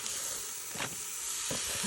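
Ground beef sizzles steadily in a hot pan, a constant bright hiss with a couple of brief scraping sounds.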